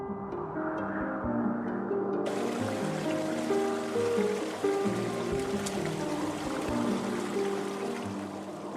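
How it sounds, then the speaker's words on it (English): A Yellowstone stream flows beneath forming ice, giving a steady, muffled rush of water with gurgling trickles throughout, continuous and fairly close, with no voices. "The sound of flowing water is muffled as ice limits the channel"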